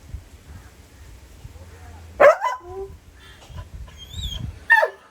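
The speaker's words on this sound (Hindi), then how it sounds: "और ये बिल्ली के बच्चे को भौंक रहे हैं।" Two sharp dog barks at a kitten, a couple of seconds apart, with quieter yips and low murmuring in between.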